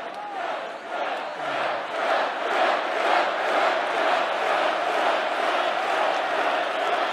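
A large crowd at an evening political rally in Allentown, Pennsylvania, roaring, cheering and shouting together in a sustained, dense wash of voices that swells slightly and holds steady throughout.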